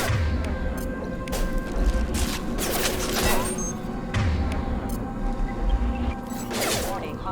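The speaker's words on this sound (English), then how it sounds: "Sounds like Fenris mechs." Combat in Mass Effect Legendary Edition with Fenris mechs attacking: repeated metallic crashes, thuds and bursts of weapon fire over a steady mechanical hum and background music, dense and continuous throughout.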